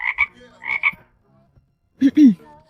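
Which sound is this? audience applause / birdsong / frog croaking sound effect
frog croaking sound effect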